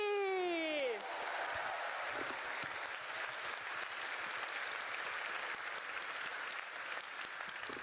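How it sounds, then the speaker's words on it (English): A falling sweep of tones gives way to sustained crowd applause at a Final Fantasy XIV fan festival esports semifinal, steady clapping that continues evenly for several seconds. "Can we get a huge round of applause for Esports Ready?"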